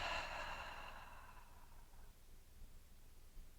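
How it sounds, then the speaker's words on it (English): A single deep breath during a standing yoga session, a soft airy exhale that fades out over a couple of seconds into quiet room tone. "Take a deep breath in and out."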